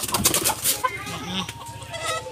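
Native backyard chickens cluck and chatter close by in a dense, overlapping burst of short calls, loud and without talk.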